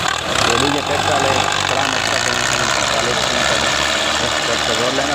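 A tractor engine runs steadily beside the Indus River. Its low, throbbing chug holds at a loud, close, even level throughout, with a slight rattle in its rhythm.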